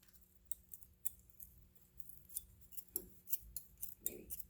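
Scissors snipping through a tough bun maker to cut it in half, a series of sharp close metallic clicks and crunchy snips at irregular intervals, growing denser toward the end, with no talk.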